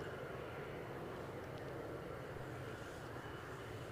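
Logan Air ATR turboprop aircraft at Edinburgh airport, heard as a steady distant engine drone with a broad hum throughout.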